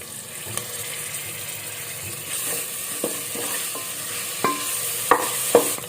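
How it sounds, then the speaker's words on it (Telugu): Fresh mint and coriander frying in oil for vegetable pulao, a moderate sizzle with repeated sharp spoon clinks and scrapes against the pot, growing busier toward the end, no speech. "ఈ కొత్తిమీర పుదీనా బాగా దీంట్లో ఆయిల్లో బాగా వేగాలండి"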